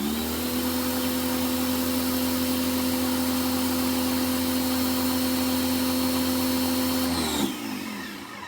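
A Greenworks 1800 PSI electric power washer with a turbo nozzle runs in a steady, loud motor drone with a strong hum for about seven seconds, then shuts off and winds down abruptly.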